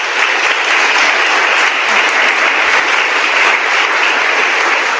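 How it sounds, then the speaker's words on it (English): Audience applause at an arts awards ceremony, a sustained, steady round of clapping from a full room lasting throughout, loud and even with no voices over it. "please give them another round of applause."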